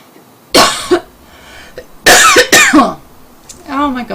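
A person coughs several times in short bursts: one sharp cough, then a cluster of two or three harsher coughs, followed by a brief throat-clearing, all close and loud.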